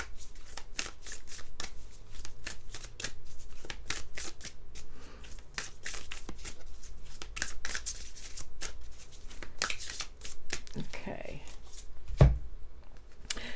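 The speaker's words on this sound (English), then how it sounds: "we're gonna draw a card from my deck" An oracle card deck is shuffled repeatedly in a rapid, crisp riffling patter close up, ending with a card drawn and a brief soft thump.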